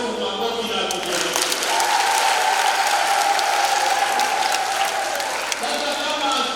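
Sustained crowd applause at a first holy communion children's question-and-answer gathering in a Catholic parish in Kijenge, Arusha, steady and dense throughout, with high shrill ululation trilling over the clapping.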